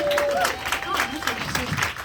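A crowd at a live evening talk event gives a brief spatter of applause, moderately loud, with a voice speaking over the clapping.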